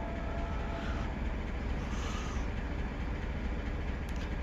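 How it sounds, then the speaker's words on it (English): A train creeps slowly along a siding, heard as a faint, steady low rumble with a soft hiss, distant and continuous, with no one talking. "Train, it's a train."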